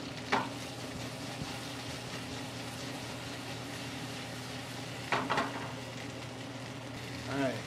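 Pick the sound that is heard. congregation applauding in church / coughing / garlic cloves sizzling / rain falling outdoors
garlic cloves sizzling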